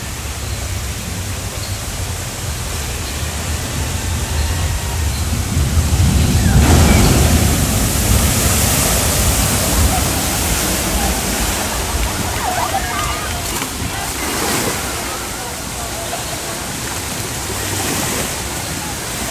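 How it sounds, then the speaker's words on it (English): Water crashes and rushes loudly at an Islands of Adventure water ride, a broad roaring wash with a surge of splashing near the middle. Voices sound faintly beneath it. "Sometimes you get a big slap of water here, and if you're standing on the bridge over there"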